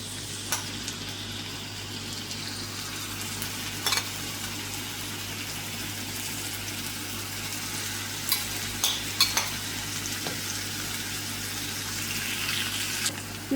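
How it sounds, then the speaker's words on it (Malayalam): Marinated prawn pieces fry in coconut oil with a steady, close sizzle and a few stirring knocks, no talking over the bubbling pan. "ഈ സമയത്ത് ഞാനിതിലോട്ട് ചെമ്മീൻ കഷ്ണങ്ങൾ ഇട്ട് കൊടുക്കുകയാണ്."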